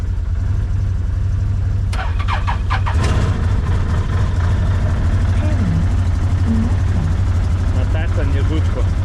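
A yellow Can-Am off-road vehicle cranks and fires up near the microphone, then settles into a steady, loud low idle, with talk over the running engine.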